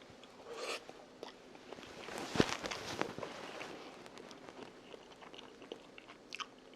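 Blanched squid and rice being eaten slowly, with soft chewing and a few sharper crunchy bites up close, fairly quiet and with no talking.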